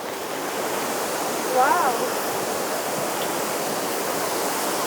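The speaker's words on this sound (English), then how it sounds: "if we go this way, we have the waterfalls" Steady broadband rush of waterfalls on a scenic road trip in La Union, Philippines, a continuous even roar filling the whole stretch, with a brief exclamation from a voice partway through.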